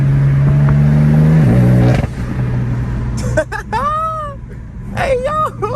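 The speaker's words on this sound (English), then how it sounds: "Oh, it's downshifting." A straight-piped BMW M4 exhaust drones loud and close, then dips and blips in pitch as it downshifts before settling lower; high squealing, whining tones follow near the end.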